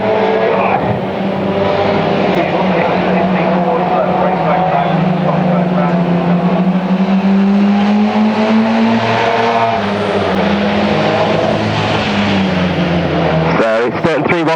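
Stock cars race past on the oval at King's Lynn, a loud continuous engine roar that rises and falls in pitch as they pass, with a commentator talking over it.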